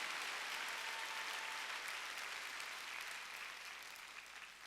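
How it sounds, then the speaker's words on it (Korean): A church congregation at a Sunday worship service breaks into sustained applause, a dense, distant-sounding wash of clapping that holds steady and then slowly fades. "깨달은 사람만 박수라고."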